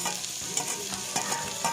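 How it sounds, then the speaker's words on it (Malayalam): Mustard seeds fry in three spoons of coconut oil in a pan, a close, continuous sizzle broken by small pops and crackles, with no voices. "അതിലോട്ടൊരു 3 സ്പൂൺ വെളിച്ചെണ്ണ ഒഴിച്ചു കൊടുത്ത ശേഷം 1 സ്പൂൺ കടുകും ഇട്ടു."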